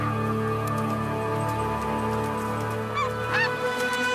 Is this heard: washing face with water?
no